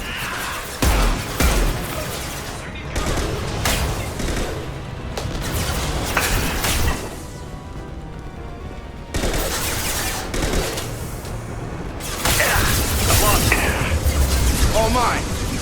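Gunfire erupts in Mass Effect 2 as an impact shot is fired, with loud volleys of rapid shots, sharp cracks and booms arriving in several separate bursts, broken by brief lulls and mixed with other battle noise and voices.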